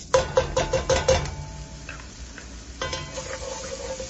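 Onions and grated garlic sautéing in a pan for turkey stroganoff, with a quick run of close spatula scrapes and knocks, then a soft sizzle and further stirring, no voices.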